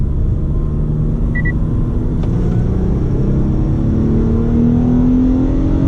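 A 2015 Mitsubishi Outlander GT with a 3-liter V6 pulls away from a stop sign, its engine droning in a steady, loud cabin rumble that climbs gradually in pitch as it accelerates.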